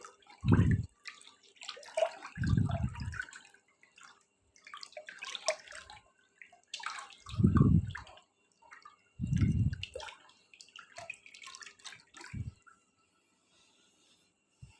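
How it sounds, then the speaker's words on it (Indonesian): EM4 solution being stirred in a 7-litre water container, giving about five separate watery sloshing swishes at irregular intervals with quiet pauses between them, close and fairly soft. "Nah, kita aduk terus sampai rata."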